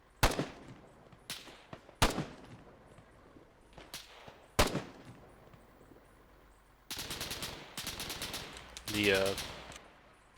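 Machine gun fire from an MG3 in a military video game: several sharp single shots early, then sustained bursts of rapid automatic fire toward the end, loud and close, with brief voices around it.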